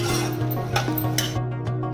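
Spoon scraping and stirring chicken as it fries in a pan, a continuous close rasping and rubbing with a few sharper scrapes.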